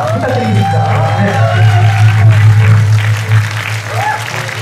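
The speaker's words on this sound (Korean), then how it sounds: "힘찬 박수 부탁드리겠습니다." Audience applause rings out at an outdoor awards ceremony for a national belly dance competition in Yanggu, a steady wash of clapping over a low droning hum, with voices mixed in throughout.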